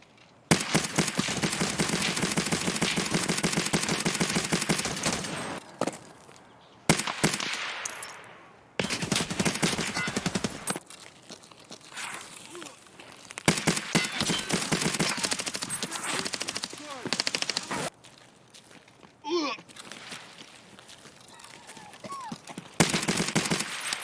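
Rapid automatic gunfire in Escape from Tarkov, bursts fired from a VPO-209 rifle at an enemy wearing top-tier level 6 armor, loud repeated volleys separated by short pauses.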